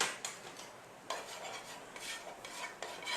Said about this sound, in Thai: เกลี่ยน้ำมันให้มันทั่ว